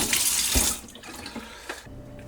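A water sprayer rinses a Samsung dishwasher filter, giving a loud hissing splash at first that drops to a softer, uneven spatter with brief surges, close by and without talk.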